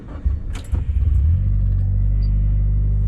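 A Mitsubishi Lancer Evo 9 running on ethanol fuel starts up: the starter churns with a few clunks, then the engine catches and settles into a loud, deep, steady idle rumble close by.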